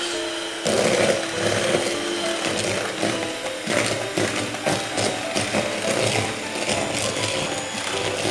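An electric mixer whirs on low speed through butter, sugar and coconut essence for a coconut and mango cake, a steady mechanical drone with rhythmic clattering of beaters against the bowl, close and continuous with no talking.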